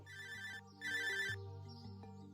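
A mobile phone rings with a melodic electronic ringtone, two bright bursts of repeating tones over a steady lower tune, close and clear with no talk.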